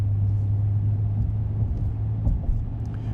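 A 2025 Ram 1500 Bighorn with the 3.6L engine accelerating on a highway, a steady low engine drone and road rumble heard from inside the cab with no talk.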